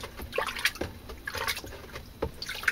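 Water emptied out of a budget sharpening stone tray holding stone particles, steel bits and rust, heard as a few faint, close splashes and trickles in irregular bursts.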